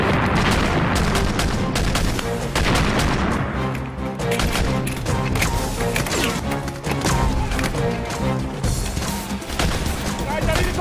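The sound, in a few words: gunfire in a war drama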